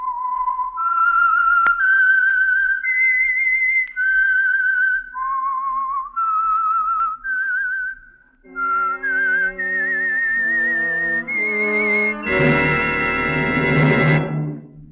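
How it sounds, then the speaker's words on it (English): A melodic whistled tune identifying the Signal Oil radio program The Whistler, a clear solo whistle rising and falling for several seconds before an orchestral chord swells in at the end. "the signal to listen for is this whistle that identifies the Signal Oil program, The Whistler."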